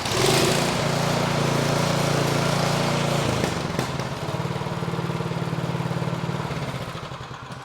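A Craftsman two-stage snow thrower engine that had sat unused for over two years runs indoors with a loud, steady chugging drone. The engine briefly drops and settles into a slightly lower, rhythmic running tone.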